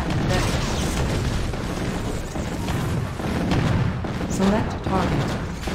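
An ion cannon fires in a multiplayer real-time strategy game test, a dense barrage of loud booming explosions and rumbling blasts that continues throughout, with spoken game announcements over it.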